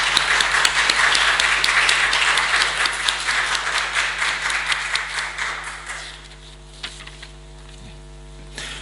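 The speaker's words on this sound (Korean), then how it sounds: "우리 환영의 박수 드리겠습니다." Church congregation applauding to welcome visitors during a Sunday worship service, a dense, steady clapping that tapers off after about six seconds, leaving a low hum and a few scattered taps.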